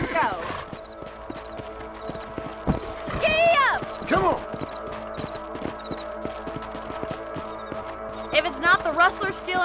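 Horse hooves in Red Dead Redemption clatter in a quick, even galloping rhythm at close range, broken by whinnies and snorts and carrying on under game music and ambience.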